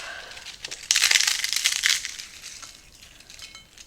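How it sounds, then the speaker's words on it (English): Corn tortilla chips crunching and crackling as they are broken by hand over a pot of beefy nacho soup, a dense burst of brittle snapping lasting about a second before fading to scattered crumbs. "take some of these corn tortilla chips. And then we're going to break them on top"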